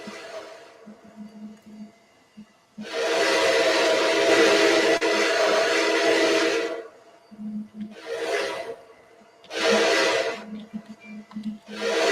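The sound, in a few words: train whistle, 2019 version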